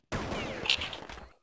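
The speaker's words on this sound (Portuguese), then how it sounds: "Muito bom tiro do Riri" A single loud gunshot in a first-person shooter video game during a quarterfinal esports match, a sharp onset followed by a ringing tail that fades over about a second.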